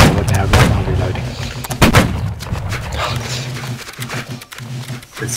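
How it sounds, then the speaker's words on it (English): Line infantry fire a musket volley in the Napoleonic-era game Holdfast: Nations at War, loud, close, rolling cracks and booms that blend into a sustained din with several sharp reports standing out. "Alright, company, make ready. Present. And fire."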